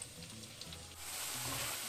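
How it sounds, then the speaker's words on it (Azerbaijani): Chopped onions frying in melted butter in a pan for a baked pumpkin pilaf, giving a faint, steady sizzle that swells slightly partway through, with no voices. "Doğradığımız soğanları əlavə edirik və qovururuq."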